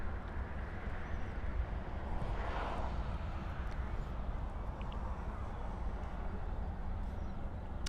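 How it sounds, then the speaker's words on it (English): A six-year-old Lufthansa Airbus A320 at Munich Airport on a Nice flight gives a steady, broad jet engine roar that holds at an even level throughout, with no talk. "this is the Lufthansa flight from Nice, LH2275, Airbus A320, this one, 6 years old"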